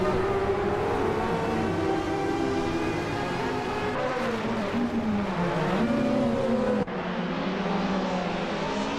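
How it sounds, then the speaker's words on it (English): A 1992 BMW 318i race car engine in a racing video game drones steadily, its pitch rising and falling through gear changes, with an abrupt cut near the end and no voices. "Big Boy Bets is cruising in a 1992 BMW 318i"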